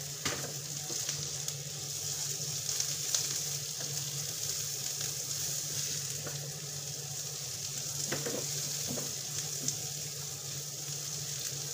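Garlic, onion and ginger fry in a pan for fish escabeche, giving a soft, continuous sizzle with a few faint stirring knocks and no talking.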